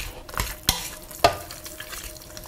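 Beaten eggs get stirred into mashed sweet potatoes, soft squelching with two sharp knocks of the utensil against the bowl, close and brief with no talk.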